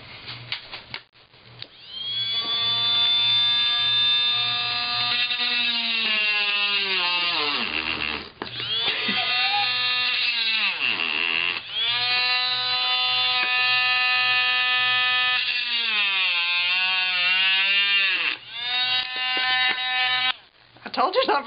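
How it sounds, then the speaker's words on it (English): A power drill whines loudly up close while drilling holes in wood for a shadowbox, its pitch rising and falling as it bites in and slows, in several long bursts with short pauses. "I'm going to drill the center holes first on each one"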